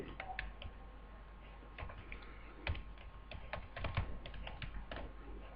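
Keys tapped on a computer keyboard to type a title, a quiet run of uneven clicks with a few firmer strikes, close and alone.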